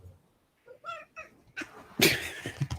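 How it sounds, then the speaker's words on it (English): A cat meows a few times, close and fairly loud, with a louder, rougher cry near the end. "I'm Ogre, and this is a cat."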